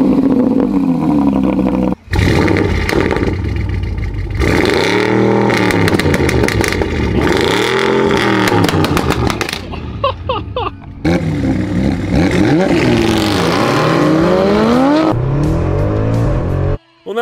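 An Audi RS6 and a Porsche with a 4-litre V8, one twin-turbo and one naturally aspirated, accelerate hard side by side in a drag race, loud engine roars rising through repeated gear-change sweeps, with tyre noise and brief cuts between shots.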